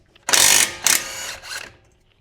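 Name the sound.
impact wrench removing lower support nuts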